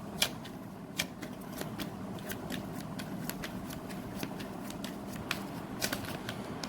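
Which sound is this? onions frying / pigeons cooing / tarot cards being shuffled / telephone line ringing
tarot cards being shuffled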